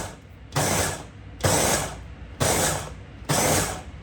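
A mixer grinder coarsely grinds suji patty ingredients in four loud bursts of about a second each, with short quiet pauses between them and nobody talking over them.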